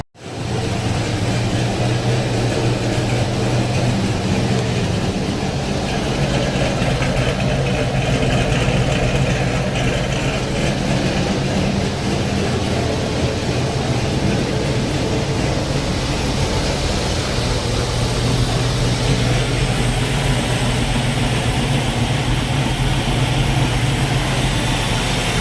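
A Corvette C5 fitted with an LS2 engine idles steadily and smoothly up close, a low, even rumble holding without revving for the whole stretch.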